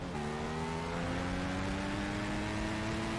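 Group A motorbike engine in Test Drive Unlimited, revving steadily with rising whining tones as it climbs toward high revs, loud and continuous with no talk.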